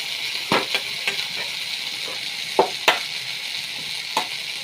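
Vegetable bhaji fries in oil in a pan with a continuous bright sizzle, broken by a few sharp clicks and scrapes of stirring.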